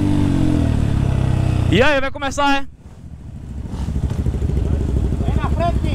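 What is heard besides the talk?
Honda Bros 160 motorcycle engine running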